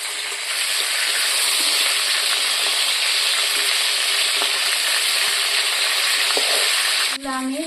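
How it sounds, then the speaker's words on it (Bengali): Pieces of shol fish (snakehead) fry in oil in a pan, a loud continuous sizzle up close with faint scraping as they are turned, cut off by a brief clatter near the end; no speech. "মাছগুলো উল্টে নেব।"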